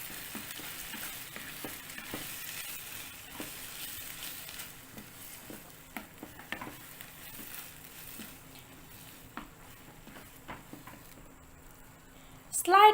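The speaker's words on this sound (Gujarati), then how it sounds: "પછી તરત જ તેની અંદર મગ ઉમેરી દેશું. અને મિક્સ કરી લેવું." Mung beans go into a hot pan and are stirred, a soft sizzle running beneath repeated light scraping clicks of the spoon, ending in a louder clatter.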